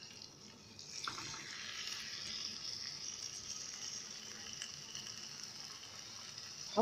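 Chicken shawarma frying in hot oil in a pan, a steady soft hiss and sizzle running throughout at moderate distance, with no talking.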